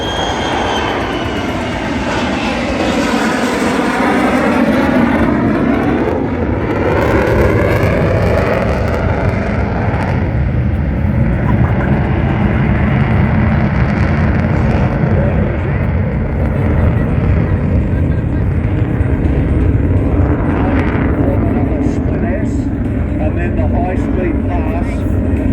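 An RAAF F-35A Lightning II jet passing at an airshow gives a loud, steady, broad roar that holds for the whole stretch, with a swooping tonal shift early on and an announcer talking over it.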